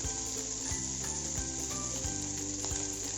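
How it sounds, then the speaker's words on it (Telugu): Vanjaram fish pieces fry in oil on low heat, Chettinad style, with a steady crackling sizzle and occasional sharper pops, close and continuous, no voices. "ఒక 2 మినిట్స్ ఒక పక్క ఫ్రై చేసుకోవాలి"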